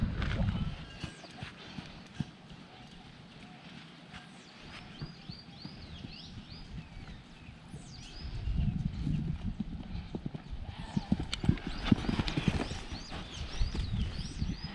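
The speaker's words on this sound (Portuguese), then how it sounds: "Olha o cavalo de vaquejada aí." A vaquejada horse in a new vaquejada saddle walks with steady clip-clopping hooves, close and moderately loud, the rhythm picking up and growing louder toward the end, with occasional outdoor background noise.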